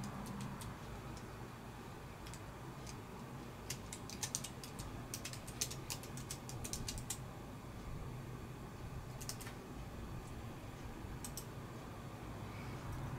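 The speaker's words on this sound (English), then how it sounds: "I'm going to type in my password" Wi-Fi password being typed on a computer keyboard while a 2020 Asus PCE-AX58BT wireless card is set up: scattered bursts of light key clicks over a steady low hum, moderately close and fairly quiet.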